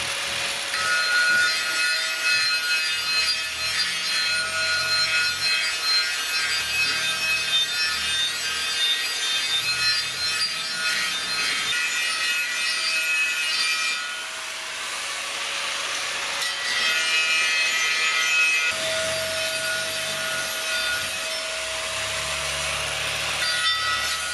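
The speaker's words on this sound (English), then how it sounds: "just grinding this end right here and getting it ready for the plate to be welded onto the rim" A grinder works the end of a 15-inch Pro Comp steel wheel rim, prepping it for a welded-on beadlock plate. The grinding is a loud, continuous abrasive rasp with a brief dip in intensity partway through.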